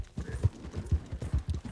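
Horse hooves in Red Dead Redemption 2 pound in a fast, rhythmic clip-clop gallop as the horse runs off, close and fairly loud, with no speech over it.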